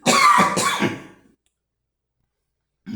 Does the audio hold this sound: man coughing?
yes